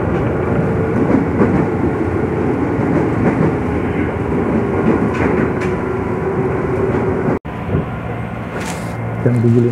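A commuter train runs near Cikoya station in Indonesia with a loud, continuous rolling rumble and clatter heard from on board, ending with a brief cutoff and a rising tone.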